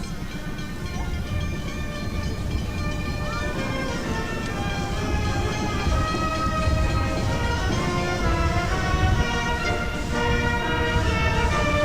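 A loud, steady rumble of a train rolling past during a 1988 street parade, with continuous rail clatter and metallic tones sustained throughout.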